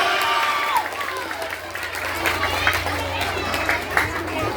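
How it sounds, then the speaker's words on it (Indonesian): Applause and cheering for children rise through a lively crowd, with scattered claps mixed into loud chatter and shouting voices, fairly close and energetic the whole time. "Semuanya tepuk tangan untuk anak-anak keren semuanya."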